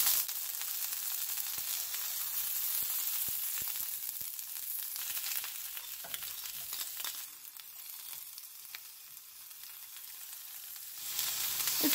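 Tomatoes, onion and garlic frying in about two tablespoons of oil in a preheated pan, a steady close hiss and sizzle with occasional small pops and stirring.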